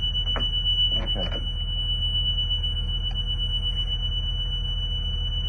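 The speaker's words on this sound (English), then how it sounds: "Then the buzzer comes on and then goes off when hatch is properly attached" An escape hatch buzzer on a vehicle gives a steady, high-pitched electronic tone that runs unbroken throughout, with a few brief squeaks and clicks near the start.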